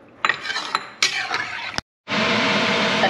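Metal utensils scrape and clink against a pot of meal maker and egg biryani in a few uneven strokes, followed after a brief pause by a steady, loud sizzling hiss.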